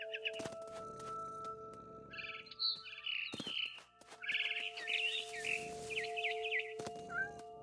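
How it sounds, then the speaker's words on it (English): Bright barn swallow chirps and short tweets from the video game What Remains of Edith Finch repeat in quick bursts over a steady electronic hum, with a few sharp clicks and thumps mixed in. "I heard chirping outside my window. It was a barn swallow going back to her nest."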